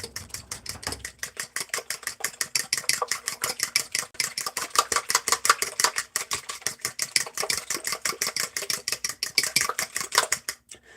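A fork whisks honey into banana bread batter made with almond flour in a bowl, giving fast, rhythmic metallic clicking and scraping strokes that continue steadily and close up, alone without talk.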